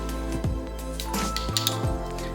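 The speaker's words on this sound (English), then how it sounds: "Then mix up all those dry ingredients." Dry pancake ingredients (flour, salt, baking powder and sugar) being stirred together in a bowl, with repeated clinks and scrapes of utensil against the bowl at an uneven rhythm, close by and moderately loud, no talking.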